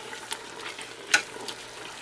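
Soft stirring and light scraping of parsley and mint into a pot of Algerian chorba soup, a faint steady sizzle-like texture with one brief sharper clink near the middle.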